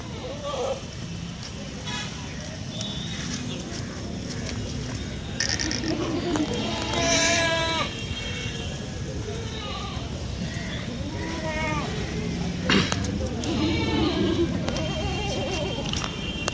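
Kathiawari goats at a livestock market bleat in short, scattered calls amid a busy crowd, with people talking over them and traffic noise in the background.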